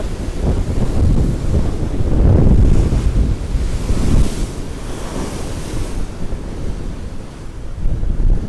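Strong wind roars across the open sea near Cape Horn, buffeting the microphone in heavy gusts of 39 to 49 knots with waves surging beneath, loud and continuous throughout.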